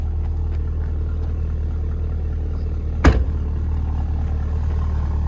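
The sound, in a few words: Cadillac CT5-V Blackwing engine exhaust note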